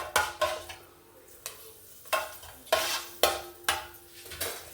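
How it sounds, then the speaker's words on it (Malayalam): Fenugreek seeds frying in hot coconut oil while being stirred, with repeated scraping clinks of a spoon against the pan every half second or so and a faint sizzle underneath, close by with no talking. "ഉലുവ ഇട്ട് നന്നായിട്ട് വറുത്തെടുക്കാം."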